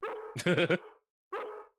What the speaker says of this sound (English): Once he gets barking, a good piece of meat is the only way to shut him up.